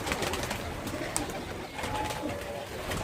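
Pigeons cooing and rustling at evening feeding time as grain is about to be scattered, soft throaty coos close by over a constant outdoor murmur, with a faint voice now and then.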